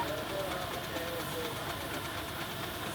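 A 4.5-scale single-cylinder traction engine runs at a steam rally, giving a steady mechanical chug beneath continuous nearby talk and crowd noise.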